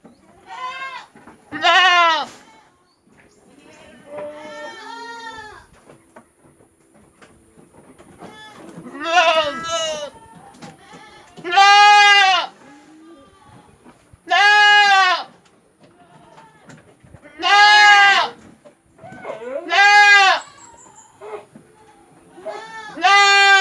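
Goats bleating repeatedly while being shipped from Java to Samarinda, several loud, drawn-out calls spaced a few seconds apart, with quieter livestock noise and faint activity in between.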